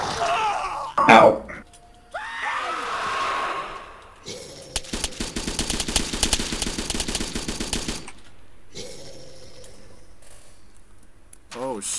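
Gunfire in the video game ArmA: a sustained burst of rapid automatic fire lasting several seconds, loud and close, preceded by coughing and vocal noises.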